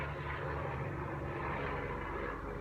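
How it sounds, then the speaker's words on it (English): A helicopter flies overhead outdoors, a steady, broad rumbling drone that holds at an even, moderately loud level throughout with no talk over it. "there's a helicopter"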